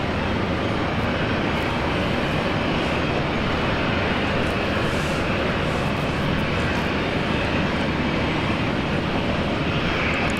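A plane at Brisbane Airport makes a steady, loud, broadband engine roar that fills the whole stretch without a break, with no clear rise or fade.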